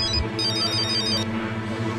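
A telephone ringtone trills in a short repeating electronic burst that cuts in after a brief moment and runs loud and close for about a second before stopping, with music continuing underneath.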